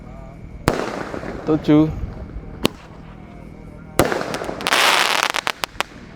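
Consumer firework shots from an eight-shot cake burst outdoors, loud sharp bangs spaced irregularly, then a dense cluster of crackling reports near the end, with a voice counting in between.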